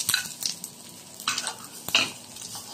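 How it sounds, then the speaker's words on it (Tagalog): Garlic and onion are stirred as they fry in a pan, a close, bright sizzle with several bursts of scraping and clattering from the spoon against the pan. "I-mix-mix at ikiwar-kiwar para lumabas ang aroma"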